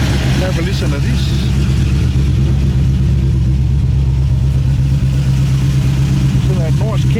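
Mercedes-Benz W211 E55 AMG idling with a lumpy, cammy burble, a steady loud low rumble held close and constant for the whole stretch, with no talk over it.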